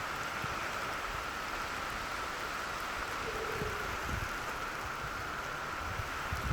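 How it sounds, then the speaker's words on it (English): Rain falling outdoors, a constant dense hiss of drops on surfaces holding steady and fairly loud throughout with no voices. "Are you ready for some rain?"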